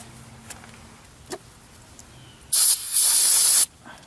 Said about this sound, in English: Last thing I'm gonna do is spray on here because it's spilling some oil.